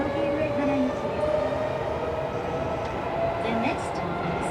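Tokyo Metro 16000 series subway train on the Kita-Ayase to Yoyogi-Uehara run, a continuous loud rolling roar with a humming motor tone, heard from inside the car without a break.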